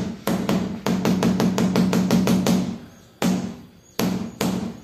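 A rubber mallet taps a wall tile to seat it, a quick run of sharp, evenly spaced knocks, then a pause and a few more separate hits, close and fairly loud.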